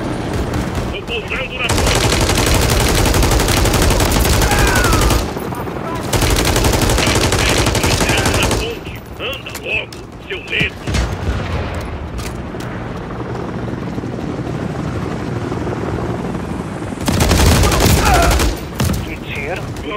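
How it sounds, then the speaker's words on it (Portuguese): Automatic gunfire and machine-gun bursts from the Call of Duty: Modern Warfare 3 video game, loud and dense in several long stretches, with a helicopter-like roar and shouted voices in between. "Estão atirando aqui."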